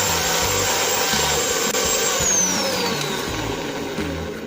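Motorcycle valve being sanded with sandpaper after dipping, giving a steady, continuous abrasive rubbing close up with a faint rhythmic low hum beneath, no talk.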